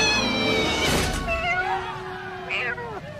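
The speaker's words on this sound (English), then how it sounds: "it's a cat" A cat in the comedy film Mr. Deeds gives a loud, drawn-out meow with rising and falling pitch, then a shorter second cry, heard close over background music.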